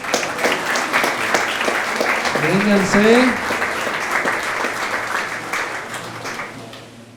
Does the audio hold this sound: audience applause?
yes